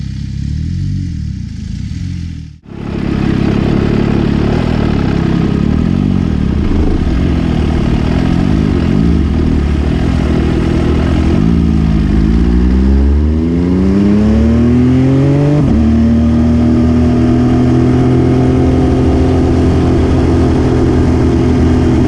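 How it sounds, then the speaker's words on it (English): An MV Agusta F3 800 sport motorcycle rides on a North Carolina mountain road, its engine loud and close throughout, revving and climbing through the gears in rising sweeps with wind rush, after a brief quiet moment at the start. "So the bike that I'm riding is my MV Agusta F3 800"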